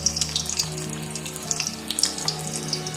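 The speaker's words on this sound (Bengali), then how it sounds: "পকোড়ার নিয়ম জানিস, দুবার ধরে ভাজতে হয়" Bread pakoda frying in hot oil, a steady bubbling sizzle with scattered crackling pops close by, over a low tonal hum, no voices.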